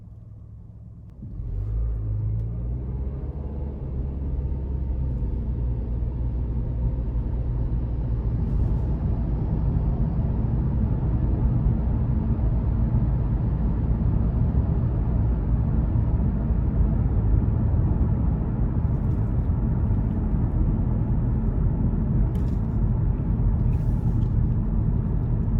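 A 2021 Nissan Kicks SR pulls away from a stop at a traffic light, its engine rising from a quiet idle into a steady, sustained low rumble of cabin road and engine noise that continues throughout.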